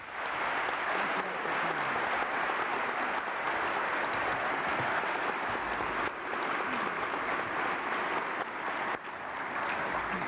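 An audience at a Landon Lecture welcomes Ambassador Vernon Walters with sustained, even applause that fills the hall for about ten seconds, many hands clapping at once with no voices above it.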